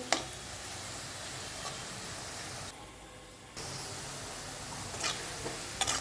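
Sliced carrots frying in oil in a pan for carrot rice, giving a steady soft sizzle with faint stirring clicks. There is a brief quieter dip midway.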